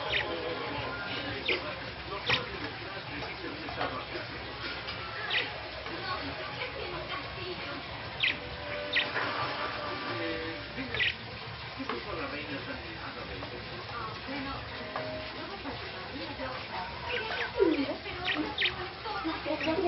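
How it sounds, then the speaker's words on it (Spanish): Pet budgerigars chirp and tweet steadily in a busy, noisy room, with scattered bright calls over a constant background hiss. "Mira los pájaros, mira el pajarito"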